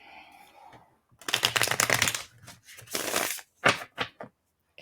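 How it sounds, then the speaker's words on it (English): Playing cards are shuffled nearby in a long, crackling riffle, followed by shorter flicking bursts and taps as the deck is squared, then quiet. "One more shuffle."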